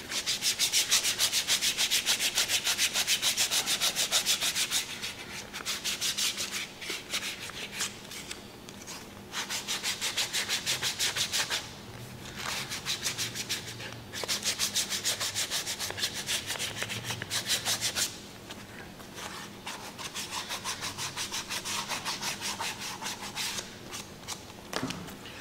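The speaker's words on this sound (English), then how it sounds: "So I'm going to do one more round of sandpaper." Sandpaper rubbed along the edges of a leather passport case, a close, steady scratchy rasping in repeated strokes with brief pauses between passes.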